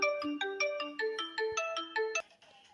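An incoming call sets off a mobile phone's melodic ringtone, a bright, close, repeating sequence of clean notes that plays loud and alone for a couple of seconds before cutting off.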